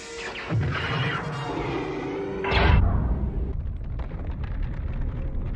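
Death Star superlaser firing on Jedha: a rising mechanical whir and charge hum, then a sudden bright blast at mid-point that swells into a long, low rolling rumble, deep and sustained, without talk.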